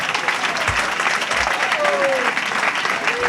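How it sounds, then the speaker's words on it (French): Sustained crowd applause at a political rally in Côte d'Ivoire, loud and continuous throughout, with a few brief voices and whistle-like tones rising above the clapping. "Il faut l'applaudir beaucoup plus que ça."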